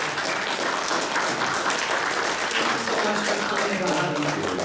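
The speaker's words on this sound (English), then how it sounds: "Does everyone give him a round of applause?" An audience at a morning coffee hour gives sustained applause, a dense and even patter of many hands that holds steady throughout.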